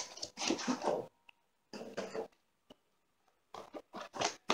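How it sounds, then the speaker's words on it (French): An art therapy colouring set box is unpacked up close: bursts of crinkling, rustling packaging and cardboard scraping come in short clusters separated by brief silences and a few faint taps. "Donc je vais tout de suite déballer le coffret."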